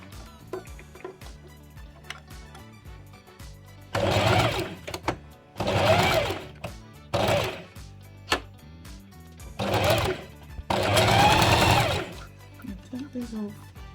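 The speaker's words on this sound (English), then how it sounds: "Okay, so now we can begin to sew them like we've put the mini pegs." A sewing machine stitches fabric scraps in several loud bursts of rapid whirring with short pauses between them, and quieter sounds fill the gaps.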